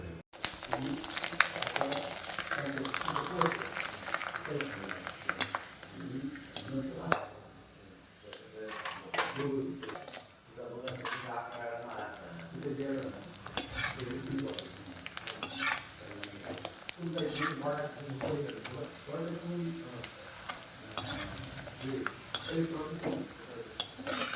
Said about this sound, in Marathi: तेल तापले आहे तर आता मी पापड्या आणि चकल्या तळून घेत आहे